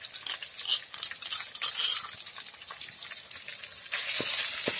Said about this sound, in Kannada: ಚೆನ್ನಾಗಿ ಮಿಕ್ಸ್ ಆಗಬೇಕು ಎಣ್ಣೆಯಲ್ಲಿ.